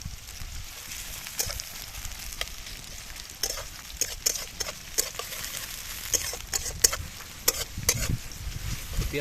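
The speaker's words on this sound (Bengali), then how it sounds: "পেঁয়াজটা লাল লাল করে ভেজে নেব" Chopped onion frying in hot oil in a kadai for a village-style chicken feet dish, a steady close crackle and sizzle with scattered sharp spatter pops and stirring scrapes throughout.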